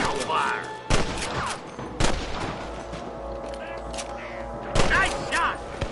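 Loud, close gunshots from the Red Dead Redemption video game ring out in separate sharp bursts about a second apart, with a shouting voice and game music running underneath.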